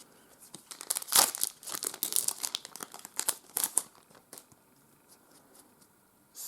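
Foil wrappers of Star Trek CCG booster packs being torn open and crinkled, close, sharp irregular crackles and rustles coming in bursts, with quieter handling between them.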